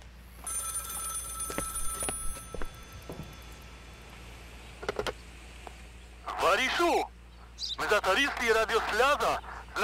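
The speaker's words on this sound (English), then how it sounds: "So we have a phone call." A phone rings in the video game Contraband Police, a repeating electronic ring at the start followed by a few clicks, then someone talks over quiet ambience.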